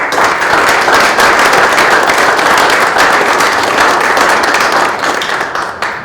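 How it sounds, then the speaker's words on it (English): Audience applause for an honoree with an undefeated 26-0 season, a dense, steady wash of many hands clapping at full volume throughout, tapering slightly at the end. "Let's give him one more round of applause."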